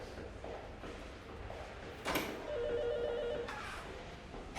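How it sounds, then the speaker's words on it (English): A telephone bell rings indoors after a sharp knock or door sound, its tone rising clearly over the background for about a second, with no talking. "Phone's ringing."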